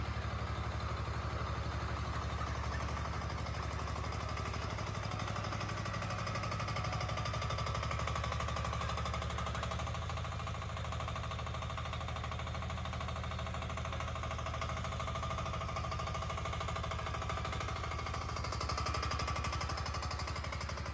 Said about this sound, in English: Mini Excavator Excavation Scene Display. Compact and multifunctional excavator.